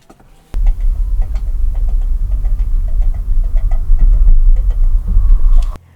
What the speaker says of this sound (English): let's do the driving sounds of coconuts